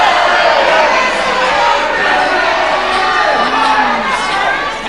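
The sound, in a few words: boxing crowd cheering at the Civic Hall, Guildford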